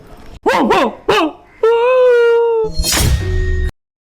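A dog barks and yips in a few sharp bursts, then lets out a long whining howl, loud and close, followed by a noisy rush of sound.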